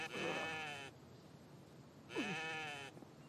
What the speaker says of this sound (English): Can I get this damn goat?